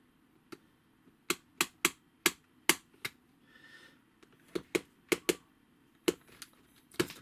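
Plastic parts from a Titan Forge Bloodfields starter kit being clipped off the sprue, a series of sharp, close snips in an irregular rhythm with a brief rustle midway, no talking.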